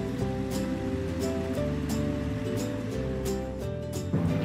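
Cartoon water from a hose pump pours onto potting soil over freshly planted seeds, a steady gushing hiss running continuously beneath bright background music.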